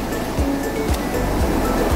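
Ocean surf rolls onto a sandy beach in a loud, steady wash of noise. Low thuds of breaking waves recur about every half second.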